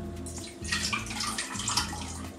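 Melted liquid butter pours steadily into a milkshake mixture, a continuous close splashing trickle with no talking.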